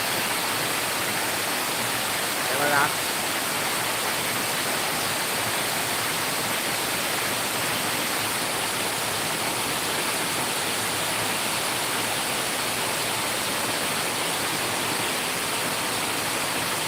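Heavy monsoon rain pours steadily at Amboli in the Konkan, a dense, unbroken roar of falling water close by, with one faint brief knock early on.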